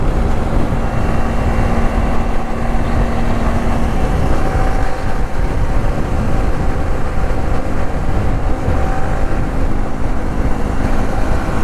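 Several performance motorcycles ride together in a row at full speed, making a loud, steady, unbroken roar of engines and rushing air that never lets up, with no talk over it.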